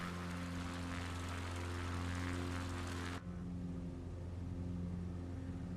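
The NXCub tri-gear propeller aircraft in Flight Simulator 2024 drones with a steady, loud engine and propeller hum, unbroken and alone, its brighter upper tones dropping away partway through.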